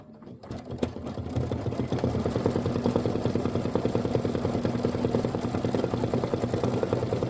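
An embroidery machine stitches a decorative chimney outline on linen for a holiday home tote, running at a steady, fast, continuous whir after a brief start-up, close and fairly loud with no talking.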